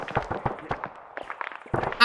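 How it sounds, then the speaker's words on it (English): Accurate machine gun fire aimed at the player in the Arma 3 military game, a run of quick, fairly close cracks in uneven bursts, with a voice talking underneath. "That's machine gun fire. And that's very accurate machine gun fire."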